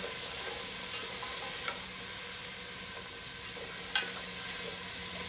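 Zucchini or summer squash sautéing in a pan, a steady soft sizzle with occasional stirring scrapes and two brief louder clinks, no voices.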